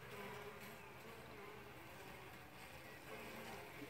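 Honeybees in a weak single-frame colony in a basket hive fan their wings, making a steady, dense buzzing drone that holds evenly throughout with no voices.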